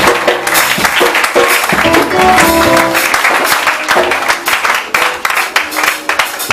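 Loud, sustained applause and cheering from a worship crowd at a night church service, dense clapping filling the whole stretch with shouts rising throughout.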